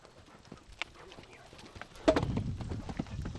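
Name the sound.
horse hooves clip-clopping over jump rails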